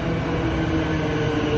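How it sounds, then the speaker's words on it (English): A Melbourne high-capacity metro train bound for Flinders Street arrives at Hallam station with a steady, loud rumble and low drone of the rolling stock, continuous and close throughout. "here comes another high-capacity Melbourne train"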